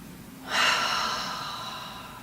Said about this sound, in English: And then deepen your breathing again.